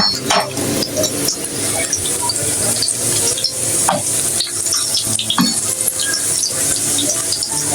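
Breaded chicken nuggets, their crumb coating already browned, fry in a pan with a dense, steady sizzle throughout, broken by occasional clinks and scrapes of a utensil against the pan.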